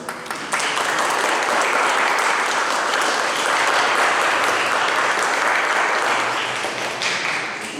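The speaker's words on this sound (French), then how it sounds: "je crois qu'on peut l'applaudir dès maintenant" A live audience applauds steadily at an event, a dense continuous wash of many hands clapping that holds for several seconds before easing slightly near the end.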